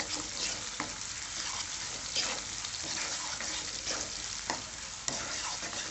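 Finely chopped onion sautéing in a pan for a fenugreek kuzhambu, a dense continuous sizzle with repeated spatula scrapes and clicks every second or so, close and steady, no talking.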